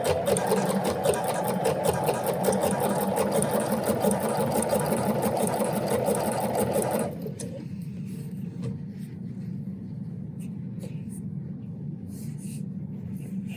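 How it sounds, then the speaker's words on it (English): A Bernina sewing machine stitches in a fast, steady mechanical whir, stopping partway through and leaving quieter background hum. "when I'm sewing how there's a pin in there and the thread goes over that pin"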